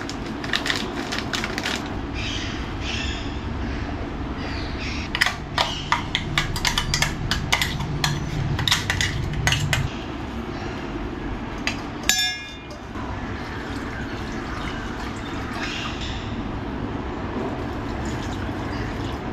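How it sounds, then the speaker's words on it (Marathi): Batter being mixed in a bowl by hand: dense, wet crunching and clinking strokes repeat for about ten seconds, then ease into a quieter, steady mixing sound. "पूरा या पिठांत मिक्स करता आणि पानपळ्या पीठ रेडी करता"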